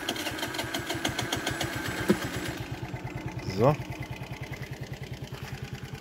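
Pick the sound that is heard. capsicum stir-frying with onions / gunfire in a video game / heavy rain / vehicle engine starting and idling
vehicle engine starting and idling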